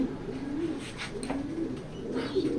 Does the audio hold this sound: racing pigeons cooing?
yes